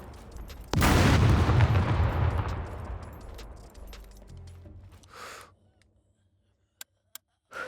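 Gunfire in the SCUM survival video game: a sudden loud burst of shots rolls into a long, decaying, echoing rumble, followed by quieter scattered clicks and sharp taps near the end.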